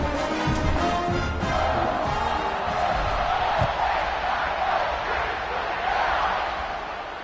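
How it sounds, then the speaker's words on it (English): Stadium crowd cheering and roaring in College Football 26 as the teams line up for kickoff, a dense, steady wall of massed voices that swells slightly and then eases off near the end. "They're set to kick it off, and this crowd now ready to get behind them."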